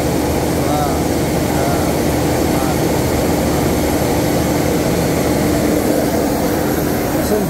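A Toyota Kijang LGX engine held steady at 2000 RPM gives a loud, continuous droning hum with a dense low rumble and no breaks, filling the space up close.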